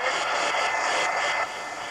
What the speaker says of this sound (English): now let me take the heat gun, dry it, heat gun.